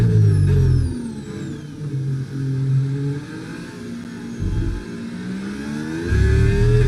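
Racing car engines in the video game Project Gotham Racing drone and rev steadily, with pitch rising and falling through gear changes and a few louder surges, heard without talk.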